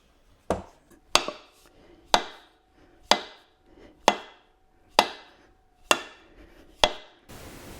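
Eight sharp metal-on-wood hammer taps seating an axe head onto its handle, evenly spaced about a second apart, each ringing briefly before fading, close by with no talking.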